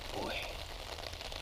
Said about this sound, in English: Yeah, it's raining.